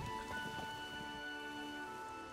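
Steady rain pattering down in The Witcher 3, a dense even hiss of drops on surfaces all around. A faint musical tone hums beneath it, and no one speaks.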